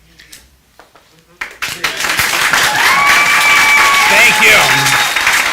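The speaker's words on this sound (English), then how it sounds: "Give me some applause." An audience at a county board of commissioners work session bursts into applause, loud sustained clapping swelling after a brief spoken thanks and holding steady to the end.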